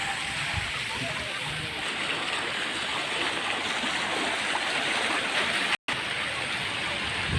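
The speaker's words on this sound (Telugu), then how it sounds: "ఎలాగైతే వాటర్ మ్యూజికల్ ఫౌంటైన్ దగ్గరకు వచ్చాను" A musical water fountain at Brindavan Gardens in Bengaluru gives off a steady, loud rush of falling and splashing water that fills the whole stretch, broken by one brief dropout near the end, with voices faintly audible in the background.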